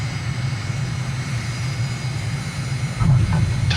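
Simulated airliner engines drone steadily on final approach and flare in a flight simulator, with a louder low rumble as the wheels touch down near the end, no talking.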